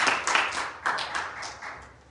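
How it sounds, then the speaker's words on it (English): A church congregation claps for young ministers in a short burst of applause from many hands, dense at first and then thinning out over about two seconds. "I think we should all give them a hand clap"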